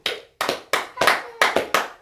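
Congregation in a French-speaking church clapping, six distinct sharp bursts of applause in quick, slightly uneven rhythm, clear and close with silence between.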